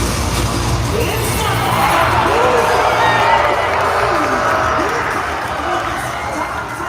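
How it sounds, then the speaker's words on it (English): A live crowd cheers and shouts as players take the stage at the FNCS Grand Finals, a loud sustained roar with whoops and yells rising and falling over several seconds. "The crowd went wild."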